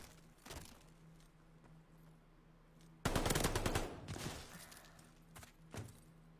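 Gunfire from a competitive shooter game: a sudden loud burst of shots at mid-clip after quieter distant pops, then a few further cracks, with no speech.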